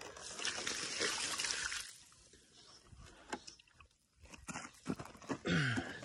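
Water is poured onto newly planted iceplants on a cliffside, giving close trickling and splattering with gritty crunches, loud at first, then fading through a quieter pause before a final burst of pouring.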